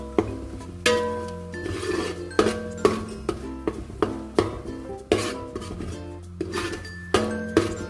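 Grated coconut being stirred into boiling jaggery in a pan, with a spoon knocking and scraping the pan in a steady rhythm of clinks over a low bubbling background, close and clear.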